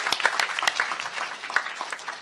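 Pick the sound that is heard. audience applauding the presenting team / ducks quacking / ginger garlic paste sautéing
audience applauding the presenting team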